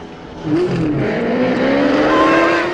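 A car drives hard in a chase scene from the James Bond film Octopussy, its engine note rising steadily as it accelerates, loud and close, with no voices over it.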